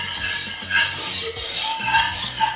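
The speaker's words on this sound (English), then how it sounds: "I can use metal in this pan, so I'm going to whisk it, and I'm going to scrape the bottom with the whisk" A metal whisk scrapes and clinks across the bottom of a pan while a teriyaki sauce is stirred, steady rhythmic scraping strokes close up, with no one talking.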